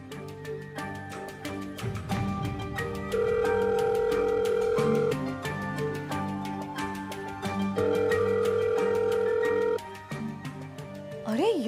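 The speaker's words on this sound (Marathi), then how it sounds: "थांब, मी तिला फोन करते." An outgoing phone call rings unanswered in a Marathi TV serial: two long, steady ring tones separated by a pause, heard over soft background music.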